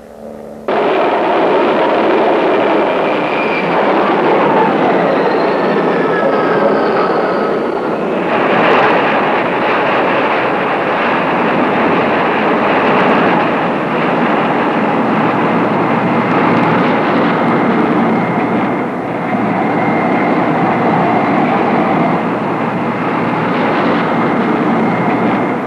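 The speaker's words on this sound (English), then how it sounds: "The airborne warning and control systems, the AWACS, lift off." An AWACS airborne warning and control aircraft lifts off, a loud, sustained jet-engine roar filling the scene with broad rumbling thrust that holds steady throughout.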